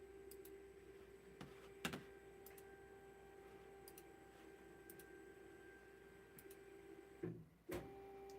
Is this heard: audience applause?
no